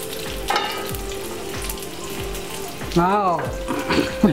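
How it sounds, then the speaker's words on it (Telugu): Capsicum stuffed with spiced potato fries under a lid in a pan, giving a steady sizzle marked by regular low bumps and a brief higher squeal near the end. "మూత పెట్టుకొని ఒక 10 మినిట్స్ ఫ్రై అవనివ్వాలి"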